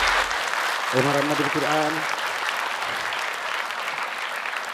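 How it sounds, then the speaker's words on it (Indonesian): Audience applause at an Indonesian Quran memorisation competition show, a continuous wash of clapping throughout with a short spoken phrase over it. "tepuk tangan untuk kami"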